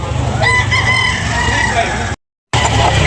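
A rooster crows loudly and close by, one long drawn-out call over a steady noisy background, followed by a brief cut to silence.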